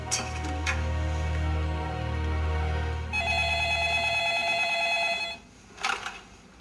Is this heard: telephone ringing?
yes